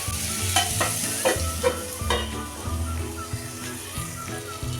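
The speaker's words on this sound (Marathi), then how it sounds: "मीठ टाकल्यानंतर जर हलवून घेऊया आणि ह्या एक मिनिटभर असं झाकून ठेवणार आहे" A fenugreek and mango side dish stirred in a pan, with a steady soft sizzle under repeated scraping strokes of a spoon at a loose rhythm, close by and fairly quiet.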